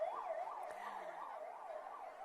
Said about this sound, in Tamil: ஆம்புலன்ஸ் அந்த பக்கம் போறாங்க